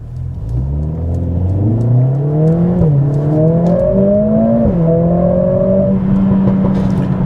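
A Mercedes CLA45s AMG fitted with a new aftermarket exhaust accelerates hard on a dual carriageway, its engine note climbing through several gears with brief dips at each shift, loud and close from inside the car.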